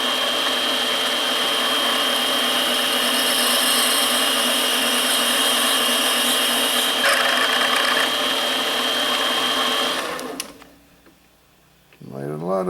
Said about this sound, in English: So we center him up on the chuck. Rev it up. Drive the bit through.